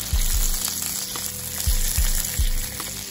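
Sausages frying in a pan, with small slits cut into them, give a loud steady sizzle, while several dull thumps and scrapes of a utensil moving them sound close by.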